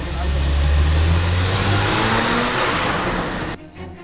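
A car engine drones loudly at close range, steady and strong with a low hum, then cuts off abruptly near the end amid a tense getaway scene; voices are not distinct over the engine.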